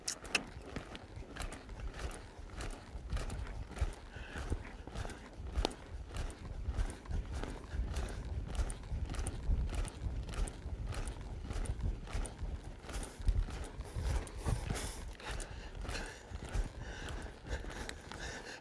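Horse loping on the left lead, its hoofbeats a steady three-beat rhythm of soft thuds repeating at an even pace for the whole stretch, mid-distance and moderately loud, with no talk over it.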